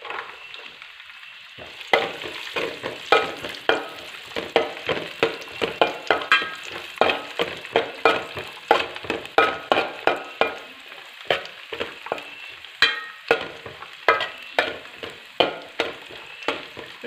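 Raisins fry in ghee for aval payasam, a bright continuous sizzle broken by quick, regular clacks of a spoon stirring against the pan, close and fairly loud.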